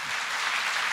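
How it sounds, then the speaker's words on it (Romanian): A short burst of dense audience applause at a Romanian folk music show in Argeș, many hands clapping at once, steady and fairly loud with no voices over it. "Uite, mama, că tu primești mai multe aplauze decât mine."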